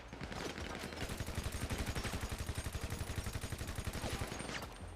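Rapid automatic gunfire in an online role-play video game, a loud sustained burst of evenly spaced shots running for several seconds before tapering off.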